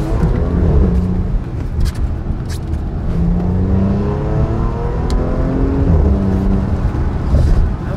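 A supercharged car engine runs at speed, a loud continuous roar with rising and falling whine as it accelerates and shifts, heard steadily throughout with road and wind noise.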